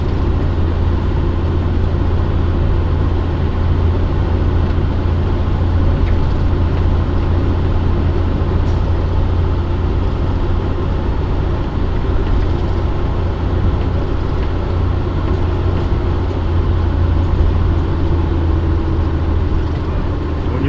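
A truck descends steep mountain roads in West Virginia, its engine drone and road rumble loud and steady throughout with no break and no one speaking.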